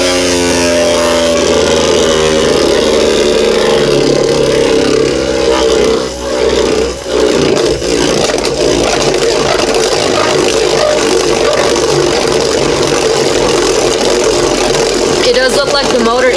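A motorized Regalia Yenesis Beyblade from a GT customize set spins on a tornado-ridge stadium, producing a loud, continuous buzzing motor whir with scraping rattle that dips briefly midway, while a voice talks over it.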